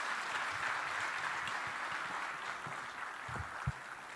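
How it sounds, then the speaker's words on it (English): Applause from an audience at the Africa Gaming Expo 2026, a broad steady wash of clapping from a large crowd that stays even throughout, with a few faint thumps near the end. "I'm sure you could increase the decibel level of that applause."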